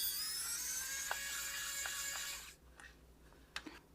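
Small Phillips head screwdriver turning a screw inside a Logitech M240 computer mouse during teardown, a quiet whirring, buzzy rattle for a couple of seconds, then a few faint clicks and taps close up.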